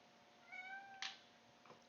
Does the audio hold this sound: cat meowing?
yes